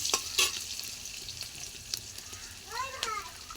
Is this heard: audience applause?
no